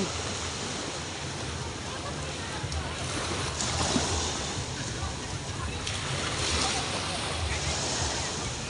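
Ocean waves at Panglao beach, a tropical shore where children are swimming, roll in as a steady broadband wash that swells gently a few times. The surf is loud and close, with no clear talking above it.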